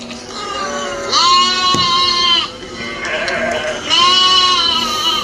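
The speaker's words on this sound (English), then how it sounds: "It's sheep." Sheep bleat loudly and close by, with two long wavering calls separated by a short pause over a steady background.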